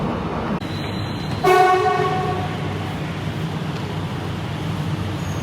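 A train in Indonesia rumbles steadily from inside the carriage, with a brief horn-like tone and a short high chime sounding partway through; no one speaks.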